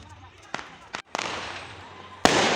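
New Year fireworks pop and crack nearby in a short burst, sharp bangs followed by a sustained loud crackling roar, with people talking excitedly over them.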